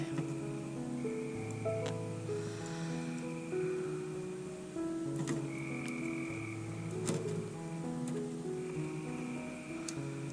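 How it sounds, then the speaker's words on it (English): Frogs croak steadily outside at night, a dense chorus of repeated low and mid-pitched croaks in overlapping rhythms, with occasional sharp clicks, no talking. "Those frogs are really going crazy out there."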